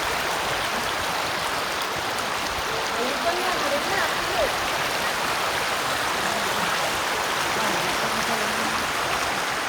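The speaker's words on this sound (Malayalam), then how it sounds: "വെള്ളത്തിൻ്റെ സൗണ്ട് മാത്രം" Flowing stream water along a hiking trail to Bushkill Falls, a steady broadband rush that fills the whole clip at a constant level, with faint voices murmuring beneath it.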